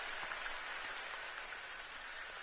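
Rain falling in the hunting game theHunter: Call of the Wild during a goose hunt, a steady, even hiss of dense rainfall with no distinct drops standing out, moderately quiet and without voices.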